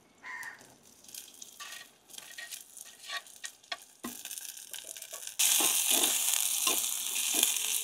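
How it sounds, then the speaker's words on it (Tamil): Soya chunks sautéing with onions, green chillies and garlic in a pan for soya meat curry, a soft sizzle with occasional stirring scrapes that swells into a louder, steady hiss near the end. "இப்போ இதை வந்து வெங்காயத்தோடு போட்டு வதக்கி எடுப்போம்."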